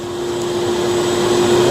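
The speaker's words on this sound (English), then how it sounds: "The first thing we're going to do is get the vacuum cleaner rolling. I'll start that." A vacuum cleaner runs in a workshop during repairs to a Jetta, giving a loud, steady drone with a constant whine that holds unchanged throughout, with no voices.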